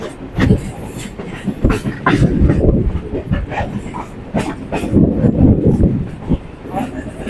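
A Kolkata local train on the Bidhannagar line from BBD Bag toward Barrackpore rumbles along with continuous clatter and swelling rattles heard from inside, and faint voices blend into the noise.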